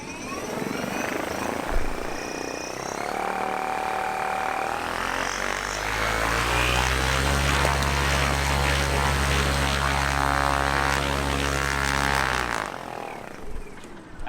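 Homemade electric airplane propeller motor run up to full power: a whirring drone climbs in pitch and loudness, holds as a loud steady propeller roar, then cuts off abruptly near the end, with no talking.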